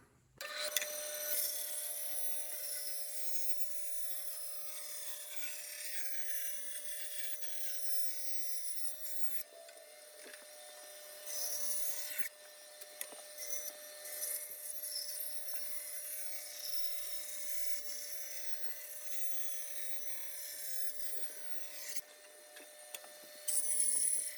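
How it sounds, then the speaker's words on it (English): A bandsaw cutting out a skateboard deck from leftover wood: a continuous high whine with a rasping cut running almost unbroken for over twenty seconds, briefly easing now and then, close up with no voices. "cut it out on the bandsaw"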